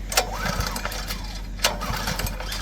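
A small engine with the choke on is pulled to start and sputters close by, catching into an uneven, throbbing run with two sharp pull strokes.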